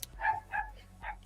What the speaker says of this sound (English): I'm so sorry about my freaking dog.